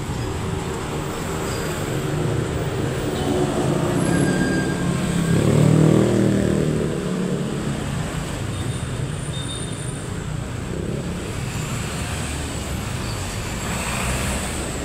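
Dense rush-hour traffic at night gives a continuous rumbling road drone with a heavier passing swell midway, plus faint squeals and tones, with no talking.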